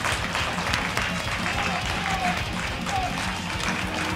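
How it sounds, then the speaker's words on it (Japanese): High school students in the stands applaud Saitama SC football players after a Kanto League match, a steady wash of clapping and crowd noise outdoors with a commentator's voice over it throughout. "今この高校生たちから埼玉サッカークラブの選手たち、大きな拍手が"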